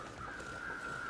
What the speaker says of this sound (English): Watch all the fucking crows come.